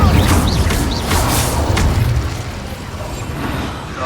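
Incendio fire spell cast in Hogwarts Legacy: a loud burst of roaring flame and booming impacts, with mechanical clatter and a couple of brief whooshing accents, the roar fading gradually.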